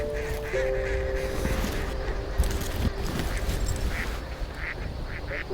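Ducks quacking and geese honking over an Idaho cornfield, many birds calling at once at close to middling range, steady and busy throughout with no talk.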